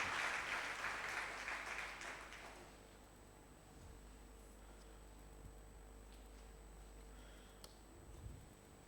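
A church congregation claps together for the Lord, a dense burst of applause lasting about two seconds before fading into the quiet hum of the hall.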